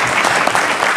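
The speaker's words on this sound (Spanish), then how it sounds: "yo pedirles un aplauso" An audience at a sustainability-finance conference panel applauds the speakers, a short burst of dense, even clapping heard close and alone.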